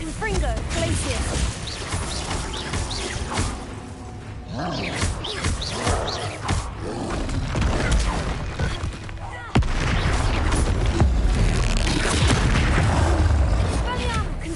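Spell-casting blasts from Hogwarts Legacy, fired in quick succession as booming, crackling bursts that layer into a dense, loud barrage with few pauses.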